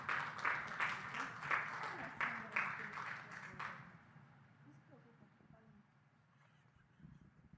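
A church congregation claps together in a burst of applause, lively and rhythmic for about four seconds before fading into a quiet room with faint scattered sounds.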